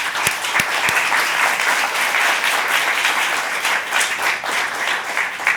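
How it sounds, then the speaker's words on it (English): A conference audience at a climate and development finance panel breaks into sustained applause, dense steady clapping from many hands filling the room throughout, with no speech over it. "A big round of applause."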